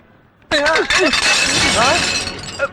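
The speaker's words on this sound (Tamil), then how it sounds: "கை தவறி 2 உடைஞ்சிச்சு சார். 2 இல்ல 4 பிளேட்." Several ceramic plates slip from a hand and shatter loudly at once, a sudden crash followed by a prolonged clatter of breaking pieces, with people's voices exclaiming over the noise in a comedy scene.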